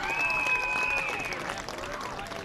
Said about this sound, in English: And one more round of applause for this great class and 15 seniors on these Panthers.